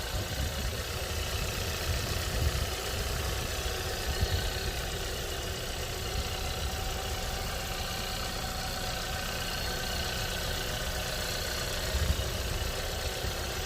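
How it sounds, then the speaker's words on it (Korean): A 2017 Hyundai Avante AD engine idles steadily just after starting, with a low, even rumble and a constant hum, no voices over it. "시동 소리 한번 들어보세요"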